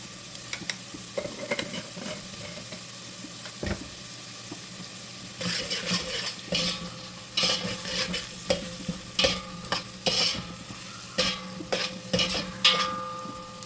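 Sliced onions with salt fry in hot oil and are stirred repeatedly, a continuous sizzle punctuated by loud clinks and scrapes of a utensil against the pan, close and without voices.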